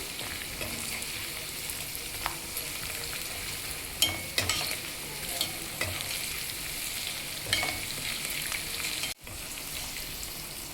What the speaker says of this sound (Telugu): ఇలా మిరపకాయలన్నీ కొంచెం లైట్గా వేగాలి.